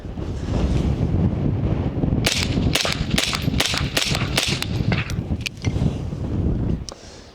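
Suppressed 5.56 rifle shots ring out outdoors in a six-shot string, a series of sharp cracks in quick succession over steady wind noise buffeting the microphone.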